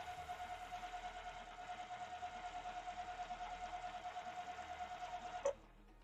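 Sewing machine stitching a framed pinwheel quilt block runs in a steady, even rhythmic whir for several seconds, fairly faint, then stops abruptly with a brief clunk.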